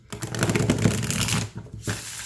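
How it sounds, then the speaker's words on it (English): A large deck of tarot cards is shuffled by hand up close, a quick run of flapping, riffling card snaps with a short pause before a final riffle. "I'm having a hard time shuffling it"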